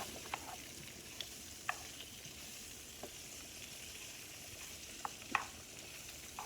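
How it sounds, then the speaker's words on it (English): Sausage for chili frying in a pan, a faint, quiet sizzle with a few scattered small pops and scrapes. "So now I'm cooking the sausage to go in the chili"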